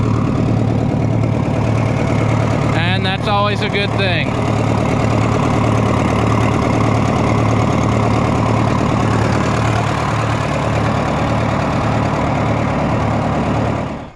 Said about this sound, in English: we have a running tractor